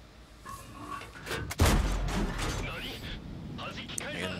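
An STB-1 tank's main gun fires at an IS-7 in World of Tanks on the Erlenberg map, one sharp loud blast with a booming low tail, surrounded by softer battle noise and game sounds.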